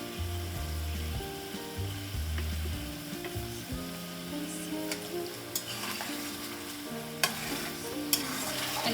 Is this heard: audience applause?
no